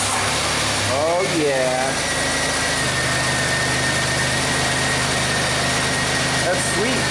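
A 1991 Buick 3800 V6 with its belt refitted cranks over and settles into a steady, loud, close idle, with a rumbling low drone running throughout and a person speaking briefly over it.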